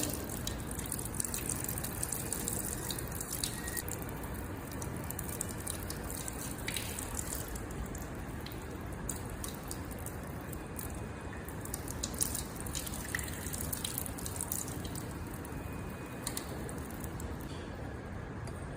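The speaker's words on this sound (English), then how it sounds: "Then we'll cool it under the tap water." Tap water runs continuously from a laboratory faucet over a test tube holding a salt solution mixed with concentrated sulfuric acid, making a steady, even rushing splash with faint drips.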